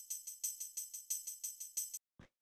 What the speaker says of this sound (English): And then we just have this little tambourine.